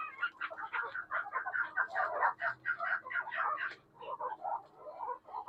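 Chukar partridges call in a dense run of clucking, chattering notes, loud and close, with a brief lull near the end before the calls pick up again.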